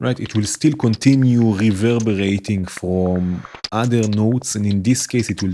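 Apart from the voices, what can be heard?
No distinct noise like a dog, phone or traffic.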